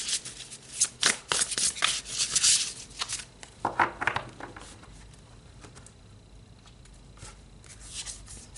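Tarot cards shuffle close up in quick riffling, fluttering bursts for about four seconds, then only faint handling sounds follow.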